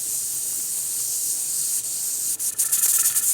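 Pressure canner weight jiggling at 10 pounds of pressure while canning beef stew, a steady hissing of escaping steam that turns into a louder sputtering, rattling hiss near the end, close and alone.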